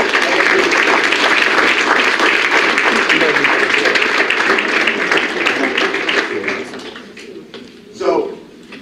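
An audience at a university senior athletics awards assembly applauds loudly and steadily for several seconds before the clapping thins and fades, with a brief voice near the end.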